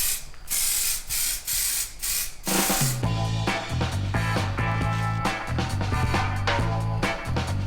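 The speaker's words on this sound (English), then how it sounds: "So you just spray." Short bursts of aerosol spray hiss close by onto Land Rover gearbox parts, followed by a stretch of mixed mechanical clicking and rattling with further spritzes on top.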